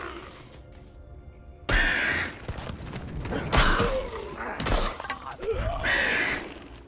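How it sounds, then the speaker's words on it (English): Crows caw in a video game demo, with a few harsh, scratchy calls repeating over a steady low game background. The calls come in loud bursts. "I got these crows."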